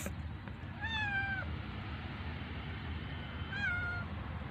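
A pregnant cat visiting a home gives two drawn-out meows a few seconds apart, fairly close and clear over a low, steady background hiss.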